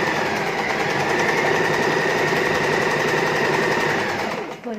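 A sewing machine stitching a garment seam, a close, continuous fast mechanical whirr and rattle at a steady pace that slows and stops right at the end, with no speech.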